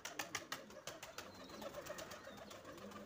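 Pigeons at a loft in the morning heat, with soft cooing and rustling close by over a constant outdoor background hum.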